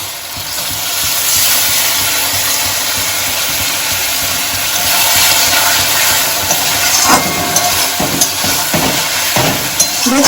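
Mustard-chili paste fries loudly in a pan after a splash of water goes in, a dense close hiss of steam and sizzle that later breaks into crackling spatters and a few stirring scrapes.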